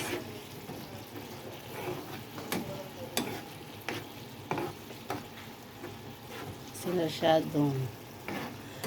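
Sardines are stirred in a frying pan, with a soft sizzle under irregular scraping knocks of the utensil and a louder burst of stirring and bubbling toward the end.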